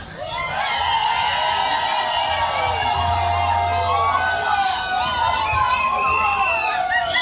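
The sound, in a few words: crowd shouting and cheering at graduation ceremony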